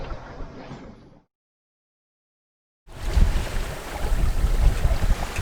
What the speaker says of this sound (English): We're just beating into this 18 knots of wind